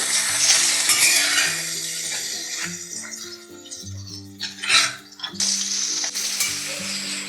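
Singhara fish fries lightly in a pan for an Assamese fish curry, giving a steady close sizzle broken by scraping and utensil clinks as the pieces are turned, with no talk over it.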